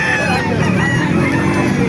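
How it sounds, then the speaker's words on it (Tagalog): Dense clucking and squawking from many crowded chickens at close range at a poultry market in Calumpit, Bulacan, with a rooster crowing in the mix, loud and continuous throughout. "Maraming manok dito."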